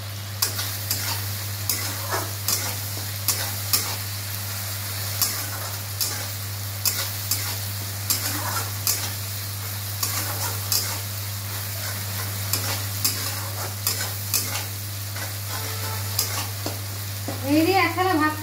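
Food sautés with a steady close sizzle in a pan while a spatula scrapes and stirs at a regular rhythm, with a low constant hum underneath and no talking.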